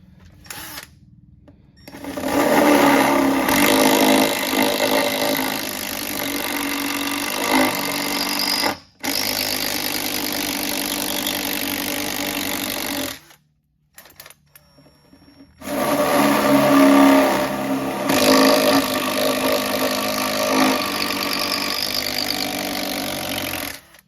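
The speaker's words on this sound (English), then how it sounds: "I'm gonna drill these other 4 holes, and I'm gonna show you how we're gonna mount the jack plate" A power drill bores mounting holes through a boat transom for an outboard jack plate, running in several long loud bursts separated by short pauses, close to the microphone.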